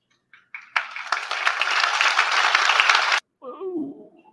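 Audience applause at a TEDx talk on decolonizing cinema: a dense, steady burst of clapping that swells in quickly, holds for about two and a half seconds, then cuts off abruptly before a short spoken sound.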